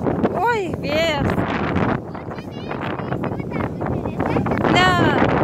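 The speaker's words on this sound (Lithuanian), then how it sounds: "Oi, vėjas." Gusty wind blowing outdoors, buffeting the microphone in a steady broadband rush, with children's and adults' voices and high squeals talking over it.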